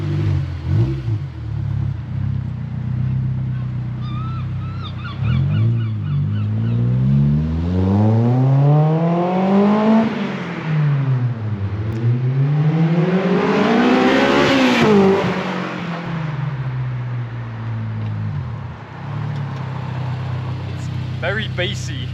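A Honda S2000 fitted with an M2 Motorsport exhaust revs up and down in two long, deep, bassy sweeps, close and loud, settling to idle between them, with voices talking over it.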